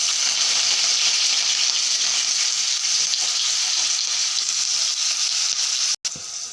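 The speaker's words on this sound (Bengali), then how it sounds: "কড়াই বসিয়ে সাদা তেলটা দিয়ে দিচ্ছি। এখন বেগুনগুলা ভেজে নেব।" Brinjal pieces fry in white oil in a kadai, giving a loud, steady, dense sizzle that runs unbroken, with a brief cut near the end.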